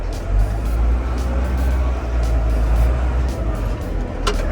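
Komatsu 510 wheel loader diesel engine running steadily while the gears are shifted, with a loud, close low rumble holding throughout and a brief sharper hiss near the end.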